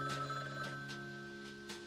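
A telephone rings inside the video game Frog Detective 3, a quiet electronic trill repeating in short bursts over a steady tonal background.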